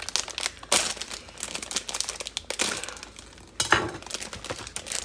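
Plastic bag crinkles and rustles up close as scissors snip through it, with a few sharper cuts and crackles over about five seconds.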